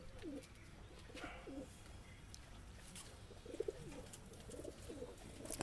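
Pigeons, including drowsy young birds in a cold winter loft, give soft rolling coos in short repeated phrases, faint and distant over a quiet background hiss.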